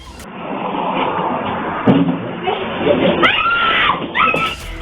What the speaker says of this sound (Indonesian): Korban sontak berteriak minta tolong hingga warga sekitar berdatangan